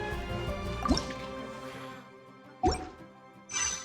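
Water drips in Genshin Impact, with three separate clear plops spaced over a few seconds against a quiet, faintly humming backdrop.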